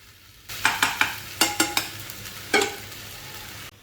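Soya tikka marinade being scraped from a spoon or spatula into a hot pan, a series of sharp clacks and scrapes over a faint sizzle, with no talk.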